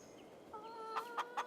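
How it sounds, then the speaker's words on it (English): Chickens and a rooster in the Farming Simulator 22 video game give a few short, quiet clucks in quick succession over a soft background hum. "A rooster."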